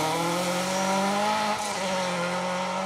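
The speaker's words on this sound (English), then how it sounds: "the sound of that Chevette HSR engine banging through the trees" A Chevette HSR rally car engine roars loudly and steadily at high revs through Kielder Forest on a rally stage, with a brief dip as it passes nearby, harsh and buzzing.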